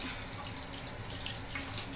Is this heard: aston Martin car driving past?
no